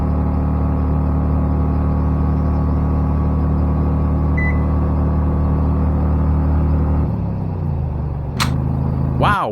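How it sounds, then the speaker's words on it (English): A Predator 670 V-twin engine fitted with a Keihin CVK carburetor runs steadily at idle with a constant droning hum, then changes pitch near the end with a short rising whine. "The engine's running great"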